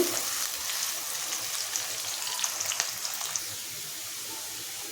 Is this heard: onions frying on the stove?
yes